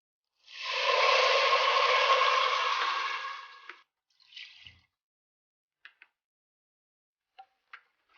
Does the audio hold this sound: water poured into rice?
yes